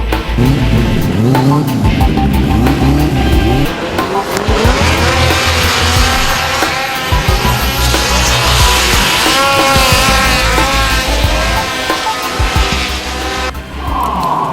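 A 2004 Yamaha RX-1 snowmobile fitted with an MC Express front mount turbo kit revs hard at a mountain hill-climb event, loud sustained engine roar with rising and falling pitch throughout.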